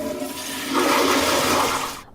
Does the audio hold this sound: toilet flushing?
yes